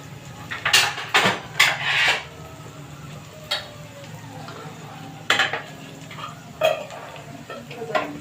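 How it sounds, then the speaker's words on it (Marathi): A spoon scrapes a fried green chili thecha mixture out of a pan into a bowl, giving several sharp metallic clanks and scrapes in uneven bursts over a quiet background. "आता मी एका बाउलमध्ये काढून घेते"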